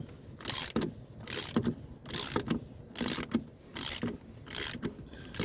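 A broken spark plug being unscrewed from a Ford 5.4 3V engine, a regular series of about seven ratcheting, grinding turns close up, each a short scraping burst with brief pauses between.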